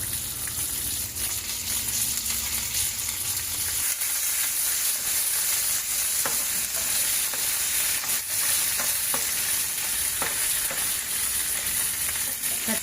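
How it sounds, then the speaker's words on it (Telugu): Green chillies fry in hot oil with a continuous crackling sizzle, and the spoon stirring and scraping them sounds occasional clicks. The sound stays fairly even and near for the whole stretch, with no voices. "పచ్చిమిర్చి మంచిగా వేగాలి. ఇవి మంచిగా వేగాయి."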